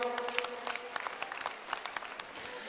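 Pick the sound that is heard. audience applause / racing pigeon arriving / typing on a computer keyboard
audience applause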